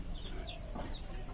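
Chickens cluck faintly on a poultry farm, producing a few brief calls over a steady low background hum.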